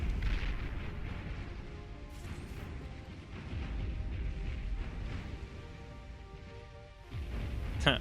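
Naval battleship artillery hits from a Beyond All Reason real-time strategy match, a dense continuous rumble of booms and crashes with a heavier impact near the end, loud and close with no talk.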